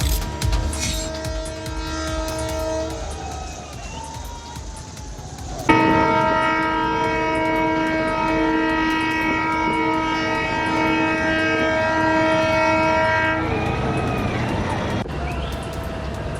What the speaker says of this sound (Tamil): புதிய தூக்கு பாலத்தில் வெற்றிகரமாக நடந்த சோதனை ஓட்டமே இது.